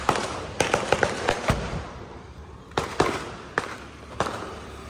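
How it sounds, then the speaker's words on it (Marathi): Firecrackers set off outdoors for a wedding celebration, a rapid string of sharp cracks followed by a pause and then several louder, widely spaced bangs against a low background hum. "जोरदार फटाके फोडतायत साले चतुर्थी असल्यासारखे."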